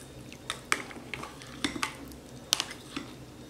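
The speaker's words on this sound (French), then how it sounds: "Et après, je vais mélanger tout ça." Utensils clink and scrape against a pot as ingredients, including mushrooms, are stirred together, with sharp intermittent taps over a quiet background and no talking.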